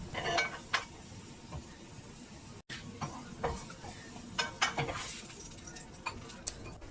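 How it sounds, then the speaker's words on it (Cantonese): Ginger slices and cordyceps flowers are stir-fried in a pan, giving a quiet sizzle under repeated scrapes and clinks of a utensil against metal, irregular and close. "落薑片、蟲草花略炒"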